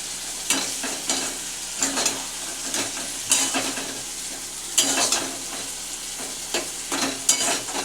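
Spice paste (masala) for a loitta fish dish sizzles steadily in a pan while a utensil stirs and scrapes through it in repeated strokes, close and fairly loud, with no voices.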